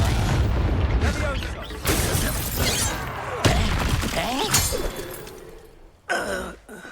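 Confringo blasting spells explode in the Hogwarts Legacy video game, with several loud bursts and shattering cracks arriving in quick succession amid combat clatter and a gasping voice, ending in a sharp final blast.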